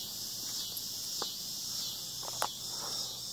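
Insects chirp in a steady, high-pitched drone on a hot, quiet night at a campsite beside a campfire. A few faint crackles and soft taps sound over the constant chirping.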